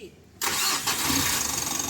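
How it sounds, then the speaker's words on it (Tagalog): A Mitsubishi L300 Euro4 diesel engine cranks and catches after a short quiet lead-in, then settles into a steady close idle. "Pa-start ko na yung customer itong makina niya."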